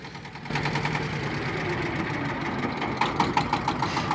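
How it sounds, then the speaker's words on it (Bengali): A fishing trawler's engine at sea starts up after a brief quieter moment and then runs on in a steady, knocking idle rhythm, close and continuous, with no voices. "আমাদের এই ট্রলারটি নিয়েই আমরা মাছ ধরার চেষ্টা করব"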